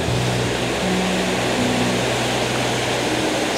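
Small waterfall in a fern-covered woodland spot, a steady broadband rush of falling water heard close and loud, unbroken throughout with no voices.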